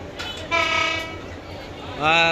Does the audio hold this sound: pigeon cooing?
no